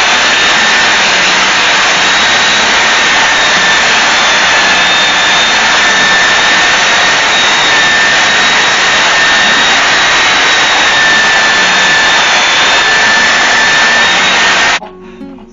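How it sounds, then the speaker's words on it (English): A belt sander runs on a wooden hummingbird feeder, a loud steady roaring whine that holds for about fifteen seconds and then stops, with no voices heard. "this is just a belt sander"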